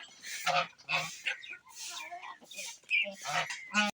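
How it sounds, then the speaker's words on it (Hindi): Chickens feeding in a yard cluck and squawk in short, close, repeated calls, with a voice also present in the background. "मेरी मुर्गियाँ माशाल्लाह से खाना वगैरह खा रही हैं अपना।"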